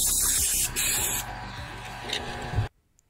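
Matte clear coat hisses steadily from an aerosol spray can for over two seconds, a continuous broad spray that cuts off abruptly, with a short pause in the middle.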